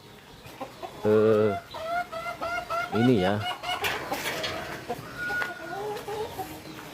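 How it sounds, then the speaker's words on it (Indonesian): Farm chickens cluck and squawk in uneven bursts just before feeding, fairly close, while someone speaks briefly among the calls. "saya akan berikan dulu makanan dulu ya kepada ayam-ayamnya"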